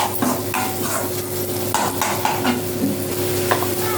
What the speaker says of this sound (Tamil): தக்காளி நல்லா வேகிற வரைக்கும் நல்லா அப்படி ஃப்ரை பண்ணிக்கிட்டே இருங்க